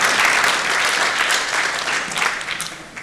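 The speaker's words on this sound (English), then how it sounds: "So can we give a big applause for Annalisa?" An audience at a women-in-racing session in a hotel function room claps in sustained, dense applause that stays loud and steady, then tapers slightly toward the end.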